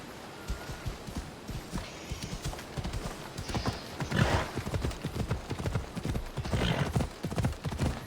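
A horse gallops in Assassin's Creed Odyssey, played in VR, with hooves clip-clopping rhythmically and continuously at close range, loud and steady throughout.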